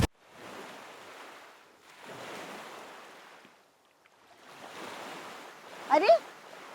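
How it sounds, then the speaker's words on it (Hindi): Sea waves wash onto the shore at Aksa Beach in slow rolling surges, each a soft hiss building and fading, with a brief pause between, and a faint high voice-like sound near the end. "अक्सा बीच पर समंदर के किनारे है।"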